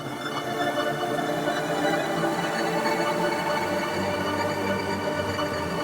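Sampled Dreamstate synth patch for Unify, played dry with no reverb: a dense, sustained pad-like texture holding steady throughout, with a low drone entering in the second half.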